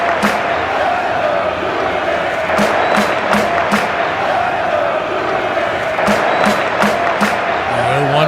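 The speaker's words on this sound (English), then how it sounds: "Blue Jays crowd is rocking now" A loud, dense roar from the Blue Jays home crowd at a Seattle Mariners vs Toronto Blue Jays ALCS Game 7 fills the stadium, swelling steadily with rhythmic thuds and stomps pulsing through the noise.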